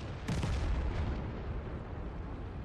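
Artillery fire in World of Tanks: one deep, booming blast lands early and is followed by a lingering low rumble that fades into steady background noise, with no voices.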